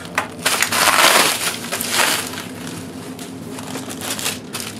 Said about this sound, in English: let's rip open this bubble wrap on this OEM drive